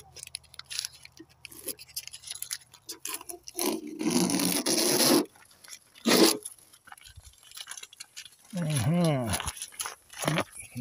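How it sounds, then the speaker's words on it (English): Masking tape is peeled away in a few rasping, crackly pulls, each a second or so long, close and fairly loud between quiet gaps and someone speaking. "now let's start pulling masking tape off here"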